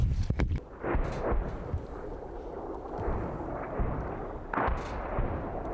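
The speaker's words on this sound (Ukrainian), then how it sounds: "Виходи града. Виходи града." A Grad multiple rocket launcher fires a rapid salvo: deep booming thuds and whooshing blasts rolling out over a rumbling background, with another launch near the end.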